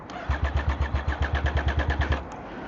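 A motorcycle engine cranks over and over in a steady rapid rhythm of about fifteen loud chugs, the starter churning without the engine catching, then stopping.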